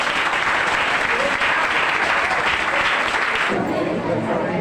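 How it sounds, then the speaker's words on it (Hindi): A church congregation at Kirupasanam Church of Christ in Navsari claps together in steady, dense applause that fills the room and continues without pause, easing slightly near the end. "ताली बजाएंगे।"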